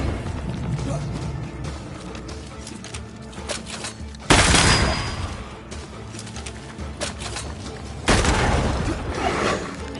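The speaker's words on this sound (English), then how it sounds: "I think I heard the sound of a gun." Loud gunfire bursts in the video game Banishers, two sharp crashing volleys a few seconds apart over a busy background of game noise.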